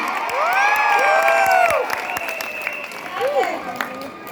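A crowd at a business motivational event claps and cheers, with shouts and whoops rising over the applause and swelling loud before easing off.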